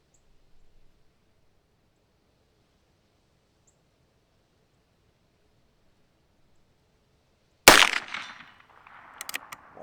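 A single loud, sharp gunshot from a scoped Heritage Rough Rider Rancher .22 Magnum revolver cracks out after long near-silence, trailing into a short rattling tail with a few small clicks.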